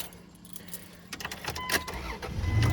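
A 2004 Dodge Dakota pickup with a 3.7L V6 starting up. Faint key jingling comes first, then the starter cranks and the engine catches into a rising, close rumble.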